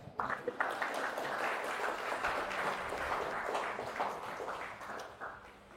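An audience claps together during a motivational talk, a dense patter of hands that starts abruptly, holds steady, then thins out toward the end, fairly close and clear with no speech over it.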